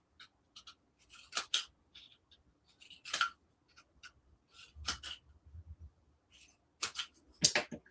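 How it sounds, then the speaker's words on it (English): Scissors snipping patterned paper for DIY craft-room storage dividers, a few scattered crisp snips and short bursts of cuts, close and fairly quiet with soft paper handling between them. "I'm snipping these so I can fold them over."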